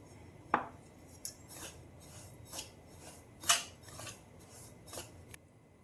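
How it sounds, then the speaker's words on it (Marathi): Semolina stirred and roasted with ghee in a pan for homemade instant upma premix, quiet intermittent scrapes and taps of a spoon against the pan over a low background, no talk. "आता आपण तूप घालून घेऊया आणि अजून 5 मिनिट आपण याला छान परतून घेऊया."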